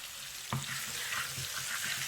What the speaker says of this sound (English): Just frying. Just keep mixing so it doesn't burn.